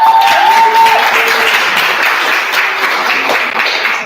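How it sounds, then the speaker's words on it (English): Conference audience applauding together, a dense steady wash of clapping that holds loud and even for several seconds, with a faint tonal whine running underneath early on. "Let's give each other a big round of applause."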